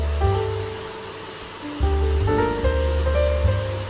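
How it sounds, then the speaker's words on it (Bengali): Water poured into a pan of fried spices gives a loud rushing, gurgling wash that surges and settles as it hits the hot oil, close and continuous. "এবার আমরা এর মধ্যে কিছুটা জল দিয়ে দেবো"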